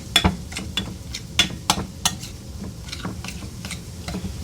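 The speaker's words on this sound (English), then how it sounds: "I'm going to go ahead and give that a stir" Utensil stirring chicken and vegetables in a frying pan: several sharp scrapes and clinks in an uneven rhythm over a steady low sizzle, close and moderately loud, with no talking.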